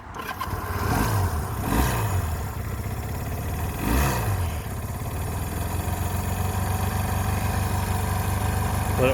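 A 1975 Honda CB200T motorcycle engine, warmed up with the choke off, idles steadily up close. A couple of brief blips rise over the low, even putter, and it then holds a smooth idle.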